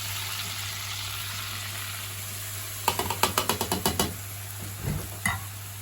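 Semolina in melted butter is stirred over a low flame, a steady quiet sizzle broken by a quick run of about a dozen scraping strokes, then a few more near the end.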